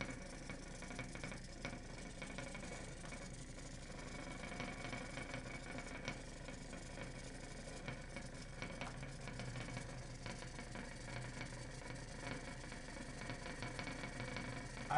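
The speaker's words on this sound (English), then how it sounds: "The sphere is now spinning." A motor-driven sphere spinning, giving a steady, even, low mechanical hum that stays at a constant faint level with no clear changes in pitch or loudness.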